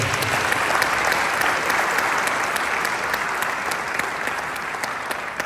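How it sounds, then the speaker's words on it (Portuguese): At a pastoral church meeting, a room full of people claps in sustained, even applause that stays strong and dense throughout with sharp individual claps audible. "Dá mais um aplauso ao Senhor aí."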